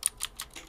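Quick keystrokes on a computer keyboard, about four light clicks in under a second, close and clear with no talking over them.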